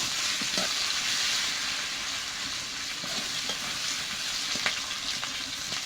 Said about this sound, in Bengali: আলুগুলো একটু ভেজে নিয়েছি